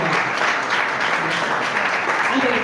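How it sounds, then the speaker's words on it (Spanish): Audience applause at a peña, a folk music gathering in La Plata, Argentina, with steady clapping filling the room at an even level throughout, likely with some voices mixed in. "un aplauso renovado"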